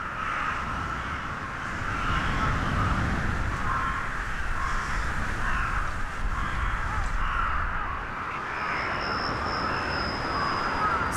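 A large flock of crows caws steadily through the whole stretch, many harsh calls overlapping near and far, a continuous noisy chorus of birds massing in flight.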